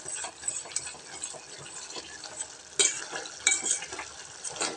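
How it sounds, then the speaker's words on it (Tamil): Onion and tomato mixture cooked down in oil, sautéing with a soft steady sizzle broken by occasional louder scrapes and stirs of a spoon against the pan, close by, with no talking. "நல்லா வெந்து வதங்கி எண்ணெய் பிரிஞ்சு வருதுங்க"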